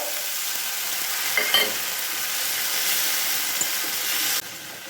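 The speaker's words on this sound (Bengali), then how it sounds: "আদাটা রয়েছে, আদাটাকে ভালো করে ভাজতে হবে, আদার কাঁচা ভাবের গন্ধটা যাতে চলে যায়" Ginger and spice paste fries in a pan for a plain raw-banana curry, a steady close sizzle with a few scraping stirs, the hiss dropping slightly near the end.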